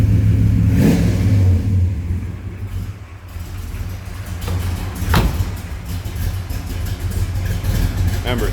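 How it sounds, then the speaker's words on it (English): A 383 stroker V8 in a 1970 Chevrolet Chevelle revs up close by, with a few sharp throttle bursts over a deep, loud, rumbling idle. "383 stroker, nice little candy sounding engine there"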